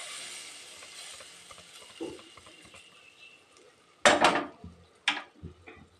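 Hot tempering for drumstick sambar is poured into cooked lentils, giving a soft sizzle that fades, followed by two sharp metallic clatters of a pan or utensil.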